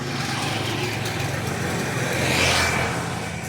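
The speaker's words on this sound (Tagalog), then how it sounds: "Mga dumadaan dito, tricycle, motor, mga papasok sa trabaho." Road traffic rolls past, tricycles and motorcycles going by near a rice field close to a school, a steady mid-distance engine drone that swells briefly as one vehicle passes nearby.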